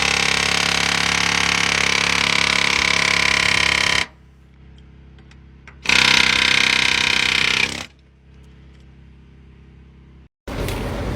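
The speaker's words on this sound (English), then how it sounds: "then you'll hit the side with the air hammer" Loud, continuous rattling bursts of a pneumatic air hammer, each several seconds long, separated by quieter pauses with a low hum.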